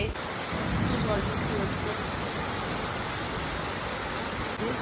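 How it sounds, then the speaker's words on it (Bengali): Heavy storm rain pours down steadily as a dense, broadband hiss that stays even and loud throughout, with no distinct drops and no talking. "আজকে আমাদের এখানে প্রচণ্ড ঝড় বৃষ্টি হচ্ছে এতদিন পর।"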